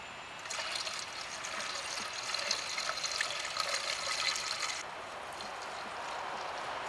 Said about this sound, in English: and top it up with water.